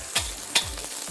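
Fried rice being stir-fried with a spoonful of secret seasoning spread evenly, with two sharp scraping clanks of a spatula against the pan over a steady sizzle.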